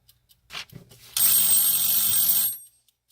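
A few soft bumps, then a loud, shrill electronic timer buzzer sounds continuously for over a second before cutting off.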